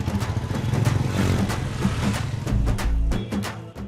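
A motorcycle engine runs and revs close by, the ride rough and clattery with uneven surges and a couple of deep low thumps near the end; no one talks.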